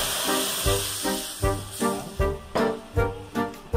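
Coconut milk thinned with water sizzles and hisses in a heated frying pan, a steady bubbling broken by repeated rhythmic bursts about every half second, with no talking.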